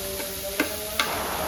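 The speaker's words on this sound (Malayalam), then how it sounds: "നല്ല ബ്രൗൺ കളറാവുന്നത് വരെ ഇതെല്ലാം നന്നായിട്ട് വഴറ്റിയെടുക്കണം" Chopped ingredients for a dried prawn dish sautéing in a pan over a low, steady background hiss, with a couple of sharp clinks of a spoon against the pan, each standing out briefly.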